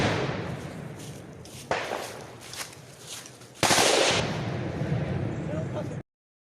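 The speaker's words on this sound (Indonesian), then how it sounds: "Terdengar bunyi tembakan dan diselingi dengan letusan GLM." Bursts of gunfire crack repeatedly during a firefight in Papua, punctuated by sharper, heavier grenade launcher blasts, with a voice speaking over the commotion.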